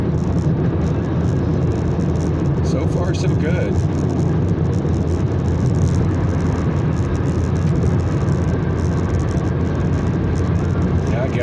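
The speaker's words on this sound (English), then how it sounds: "I'm wanting to see if the car shimmies." A car cruises at highway speed around 70 to 75 mph with constant broadband road and wind roar inside the cabin, while someone speaks briefly over the noise.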